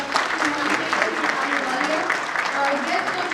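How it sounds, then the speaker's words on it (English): Audience clapping at the MSME Banking Excellence Awards ceremony, steady dense applause filling the room throughout with faint voices mixed in. "Can we have a loud applause, ladies and gentlemen?"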